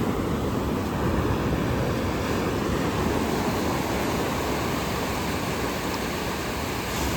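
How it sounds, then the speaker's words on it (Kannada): Ocean waves wash steadily onto a beach on a rainy day, a dense continuous roar of surf that stays loud and even throughout with no talking. "ನೋಡಿ ಎಷ್ಟು ಚೆನ್ನಾಗಿದೆ ಅಲೆಗಳು, ಆ ಸೌಂಡು ಅದನ್ನೆಲ್ಲ ಕೇಳ್ತಾ ಇದ್ರೆ ಎಷ್ಟು ಖುಷಿ ಆಗುತ್ತೆ ಮನಸ್ಸಿಗೆ."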